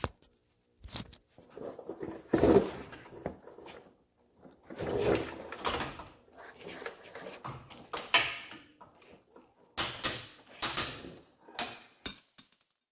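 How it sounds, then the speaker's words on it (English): Upper and lower track bar bolts on a Jeep JL with an adjustable front track bar being torqued to 110 foot-pounds, heard as close, intermittent bursts of metallic ratcheting and clunks separated by short pauses. "now we are going to tighten the upper and lower track bar bolts to 110 foot-pounds"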